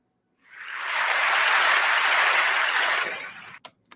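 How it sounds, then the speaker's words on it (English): A burst of artificial applause plays at the start of a recording, rising quickly into a dense, steady clapping wash before fading out after about three seconds. "It also has a bit of artificial applause at the beginning."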